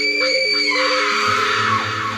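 A woman screams in a horror-story setting, a loud shrill sustained cry with wavering pitch that breaks into ragged yelling, sounding close and filling the short moment on its own.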